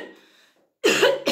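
A short coughing fit from an adult: a brief throat sound, a moment of silence, then two loud, harsh coughs close to the mic, the second one cut short.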